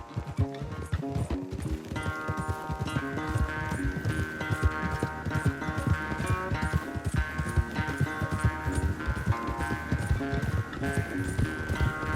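Rapid rhythmic hoofbeats of a galloping horse in a Red Dead Redemption 2 race pound steadily, layered over a busy musical backing with a sustained melodic tone.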